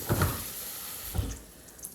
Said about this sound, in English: Rinse that in the sink.